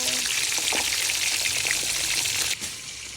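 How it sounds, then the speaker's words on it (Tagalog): Steady, dense sizzling of milkfish frying in hot oil, loud and close, with a brief dip near the end. "Prito tayo na. Ang bangus."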